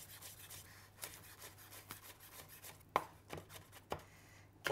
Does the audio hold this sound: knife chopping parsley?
yes